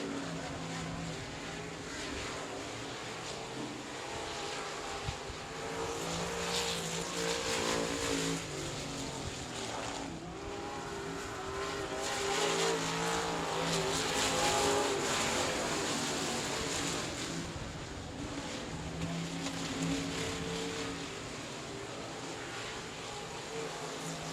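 Race cars roar around the oval at South Texas Speedway, a steady layered engine drone that rises and falls as machines charge past, with a commentator's voice running over the din throughout.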